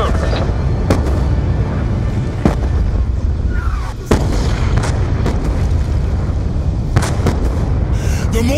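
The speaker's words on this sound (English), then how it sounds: "The mortars have stopped!" Mortar shells exploding in the video game Black Ops 2, a dense, continuous battlefield din with repeated booming blasts and sharp bursts throughout, loud and close, with no one talking.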